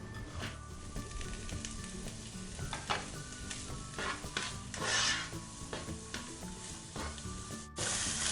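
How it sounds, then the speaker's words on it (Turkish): Steady frying sizzle of chopped onions in a pot, with occasional scraping and stirring clatter, close up and continuous without any talking. "Ve bir tane de yemeklik doğradığım soğanı kavuruyorum."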